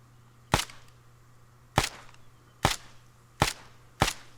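Five sharp rifle shots from ArmA 3, spaced irregularly about a second apart, each a crisp crack with a short tail over a quiet low hum, no voices.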